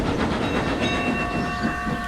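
A steam engine train rumbles along the rails with a steady, close chugging roar and faint clickety-clack, alone without voices.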